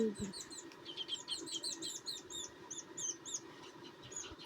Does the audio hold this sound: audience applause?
no